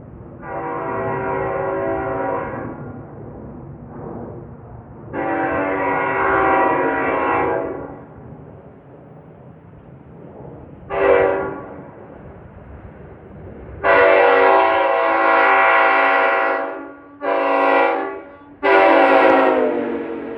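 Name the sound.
NJ Transit train 1167 for Suffern sounding its horn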